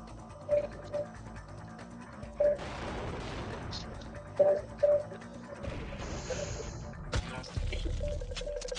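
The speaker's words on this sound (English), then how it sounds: "Shooting around him." Video game gunfire: scattered short bursts of shots recur every second or two at moderate level amid background game noise, with a speaking voice nearby.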